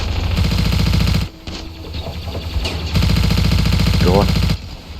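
Rapid machine gun fire in the Ravenfield video game, loud dense bursts in two long stretches with a brief quieter gap between, where a voice briefly calls out.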